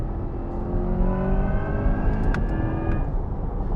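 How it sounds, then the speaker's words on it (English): A 2024 Corvette E-Ray accelerates hard. A rising electric-motor whine climbs through the gears over loud, close engine noise, and the pitch drops briefly at each shift. "the electric motor noise just kept going in a crescendo as you go through the gears and shift"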